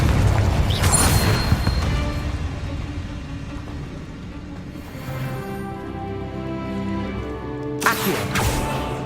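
A fiery explosive spell blast in Hogwarts Legacy bursts loudly at the start, then a rumbling tail decays under a tonal game music bed, before a second sharp burst hits near the end.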